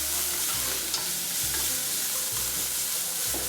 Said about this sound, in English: I'm just going to saute that quickly for about 2 to 3 minutes until it becomes fragrant